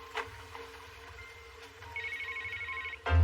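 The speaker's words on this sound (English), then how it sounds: "Your phone's ringing." A telephone rings with a steady electronic ringtone in a quiet room, a few short repeated tones rising over a low background hum before a louder thump at the end.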